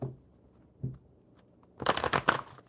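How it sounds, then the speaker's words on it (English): A deck of map cards is shuffled close by in a short, crisp burst of riffling after a couple of soft handling taps, loud against a quiet room with no talking. "So I'm going to shuffle the map cards for Southern Girl."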